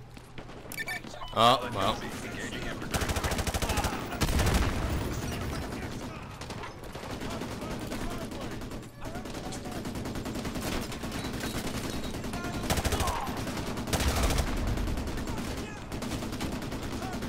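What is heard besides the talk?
gunfire in the video game Modern Warfare 2 Remastered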